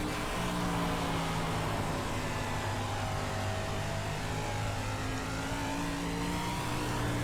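DIRTcar 305 sprint cars race on a dirt track, their engines making a loud, continuous drone that holds steady with slight pitch shifts. No one speaks over it.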